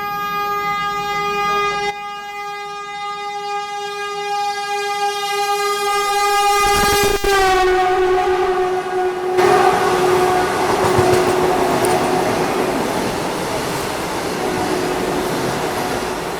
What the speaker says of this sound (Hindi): ये आ गई नागपुर इंदौर वंदे भारत एक्सप्रेस ओवरटेक करने।